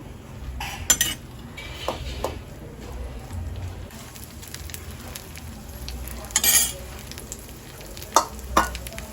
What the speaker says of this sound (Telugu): ఇవి స్లోగా వేయించుకోవాలండి. ఆయిల్లో